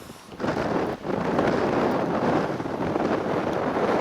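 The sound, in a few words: wind blowing into camera microphone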